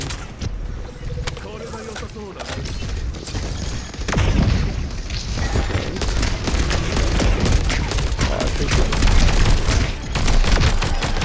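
Dense, rapid gunfire in a video game keeps up through a firefight against a tank, with mechanical clatter and booms. The shooting grows louder and more continuous partway through, and a voice talks over it.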